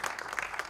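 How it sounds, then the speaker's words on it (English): Audience applause breaks out at a trailer launch event in India for The Jungle Book (2016), a brief burst of scattered clapping from a crowd with no speech over it. "A big round of applause for them too."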